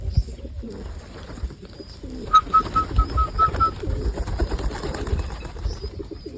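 Pigeons coo as they flutter down to scattered grain, a low burbling chorus with occasional wing sounds, fairly close and continuous throughout.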